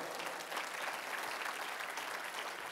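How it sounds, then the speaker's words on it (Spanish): A congregation claps and cheers during a Spanish-language church service, a dense, steady wash of applause lasting a few seconds with no clear voices above it. "Dale un aplauso al Señor."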